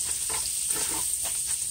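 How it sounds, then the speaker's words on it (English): Garlic frying in a stir-fry pan until toasty, a steady close sizzle with faint stirring scrapes running throughout, no voices. "You want your garlic to start get nice and toasty."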